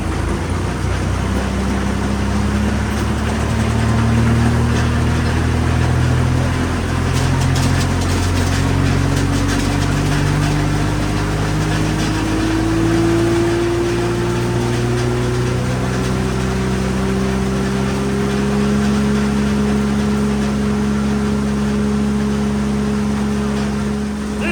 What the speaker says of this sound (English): I'm gonna throttle it up and we're gonna start grinding